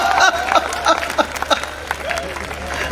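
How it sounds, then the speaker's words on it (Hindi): An audience claps at a Hindi satirical poetry talk, with bursts of applause and some laughter rising and fading over a few seconds, voices mixed in. "और अब आपकी तालियां उठेंगी"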